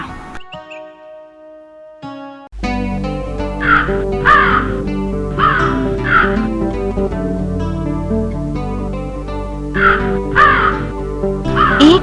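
A crow caws repeatedly in an animated Panchatantra children's story, loud harsh calls in several bursts over background music after a brief quieter opening.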